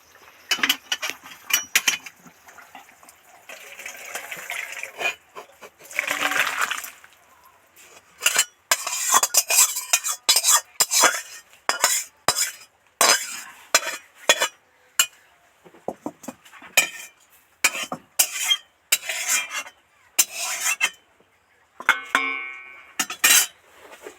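Vetki fish curry gravy being ladled into a bowl, with a quick series of sharp metal clinks and scrapes of ladle against pot and bowl, close and bright, separated by brief pauses.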